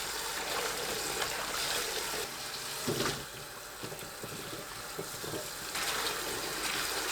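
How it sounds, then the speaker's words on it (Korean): Salted young radishes are rinsed in a basin of water, with close, fairly quiet sloshing and splashing that swells and eases in a few bursts and carries no speech. "총 1시간 절인 무타리를 물에 2번 헹굽니다."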